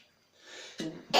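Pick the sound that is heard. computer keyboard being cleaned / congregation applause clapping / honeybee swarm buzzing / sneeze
sneeze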